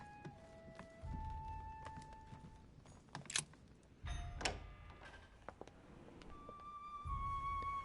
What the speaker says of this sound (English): Turkeys are setting the doorbell off.